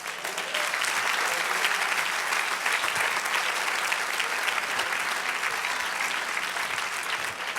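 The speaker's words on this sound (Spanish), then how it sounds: "Den un aplauso al Señor." A church congregation applauds during a sermon, a thick, continuous wash of clapping from many hands that stays even and sustained throughout with no voices standing out.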